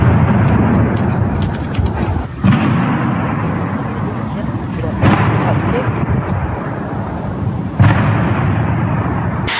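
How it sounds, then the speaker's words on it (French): Repeated deep, heavy booms roll through a dense rumbling din during an elite police assault on a building, with sudden loud bursts recurring every few seconds and voices faintly mixed in. "Plusieurs explosions s'enchaîneront dans l'assaut"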